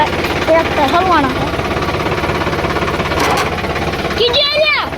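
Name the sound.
stuck tractor engine running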